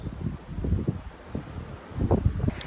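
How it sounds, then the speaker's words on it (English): Strong gusty wind blows through a rocky desert canyon in Death Valley, buffeting the microphone with low rumbling surges that rise and fall in uneven bursts. "the wind picks up to 50 miles an hour"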